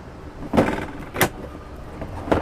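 A 3-gallon cassette toilet being wheeled out of a compartment in a Winnebago Adventure Wagon 44M, a few short plastic rattles and clunks with a rolling scrape, close and moderately loud.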